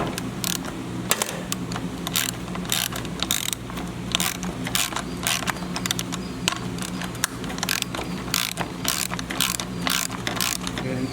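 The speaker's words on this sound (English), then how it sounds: "I'll be taking off these two 10 millimeter bolts" A hand ratchet loosening two 10 mm bolts on a 2005 Jeep LJ, rapid rhythmic clicking of the pawl in repeated bursts, close and clear with no talking.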